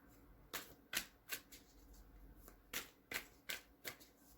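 Quick riffling bursts of tarot cards being shuffled, about ten crisp flutters in an uneven rhythm, close and fairly quiet.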